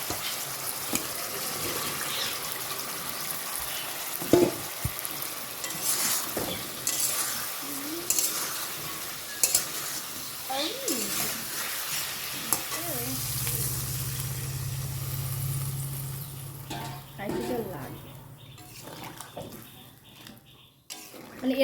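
Ginger, cumin, green chilli and tomato paste sizzles and is stirred in a pan, with a low, steady hiss and scraping. Running water and occasional quiet talk come through intermittently.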